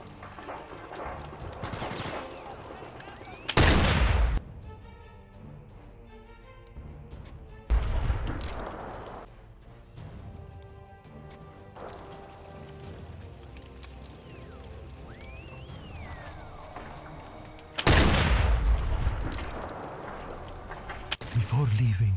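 Rifle shots in the VR video game Sniper Elite VR, fired from a window over a burning town: three loud, sharp broadband blasts spaced several seconds apart, each with a short ringing tail, over a busy bed of ambient game noise and scattered lighter sounds.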